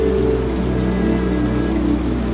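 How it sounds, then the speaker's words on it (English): Steady rain falls outside during a thunderstorm at night, a dense, even patter and hiss running continuously at moderate loudness with a low rumbling undertone and no voices. "it's storming outside"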